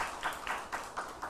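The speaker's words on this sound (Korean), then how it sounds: "다시 한번 감사의 박수 하겠습니다" Applause for a church choir during a university chapel service, heard as a faint run of soft, irregular claps from a small crowd with no voices over it.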